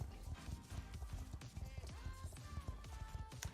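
A horse gallops in the Star Stable video game, a steady quick clip-clop of hooves with faint game sounds and music under it.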